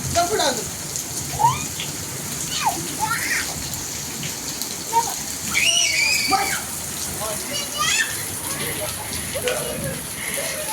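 Heavy first monsoon rain of the year pours steadily onto a road with running water, a continuous hiss with scattered sharper splashes and chirps; a voice talks intermittently over it.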